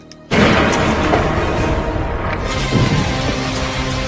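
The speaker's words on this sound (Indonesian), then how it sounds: "sebuah tembakan mengenai sang kapten" A gunshot in a film scene in which a captain is shot: an abrupt, loud blast that cuts in, then a dense, sustained roar that stays loud for several seconds.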